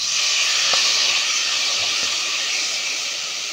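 Rice tipped into a hot pan that already holds browned ingredients and salt gives a steady, loud, close sizzle and hiss that runs unbroken, with a couple of faint knocks.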